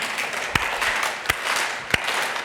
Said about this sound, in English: let's clap hands 4 times